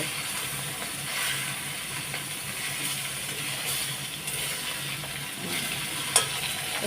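Pieces of katla fish fry in a hot iron wok, a steady, moderate crackling sizzle with scraping as they are turned and a sharp metallic tap near the end, without talk.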